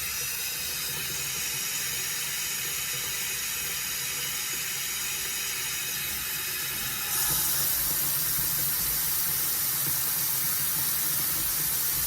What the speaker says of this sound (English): we're adding water in our beans